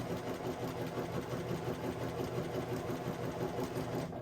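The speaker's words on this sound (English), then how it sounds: "Mum and I have exactly the same sewing machines." A home sewing machine stitches quilt blocks in a steady, fast, even whirr that runs without a break, with no voices.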